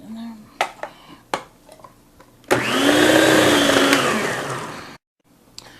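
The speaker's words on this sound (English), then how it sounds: "I'm going to put that in the food processor with the green pepper and some carrots as well" A food processor chops onion, carrots and green pepper for freezer coleslaw, its motor whirring loudly for about two and a half seconds and then cutting off abruptly, preceded by clicks and clatter of loading the bowl.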